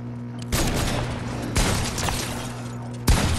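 Three heavy pump shotgun blasts in Fortnite, spaced about a second apart, each a sharp loud boom decaying over a steady background hum, no talking.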